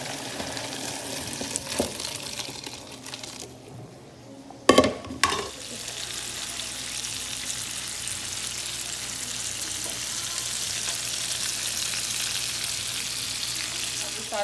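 Chicken browns in a pan with a steady, moderately loud sizzle throughout, broken midway by a couple of sharp clatters of cookware, and the frying hiss thickens toward the end.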